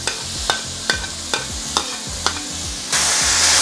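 Browned minced pork is stirred into spring roll filling frying in a pan: a regular series of about six close scraping stir strokes over sizzling, then a louder burst of hiss at the end.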